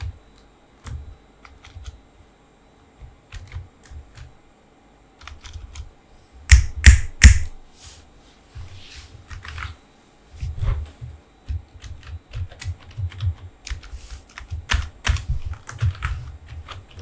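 Close-up typing on a computer keyboard in irregular bursts of clicks, with a busier flurry of louder keystrokes midway.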